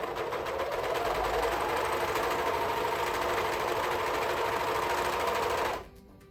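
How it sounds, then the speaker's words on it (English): Serger sewing elastic onto layered swimsuit fabric runs in one continuous fast mechanical whir for about six seconds, then stops abruptly, close and loud with no voices. "make sure that you have all your layers together while you're serging"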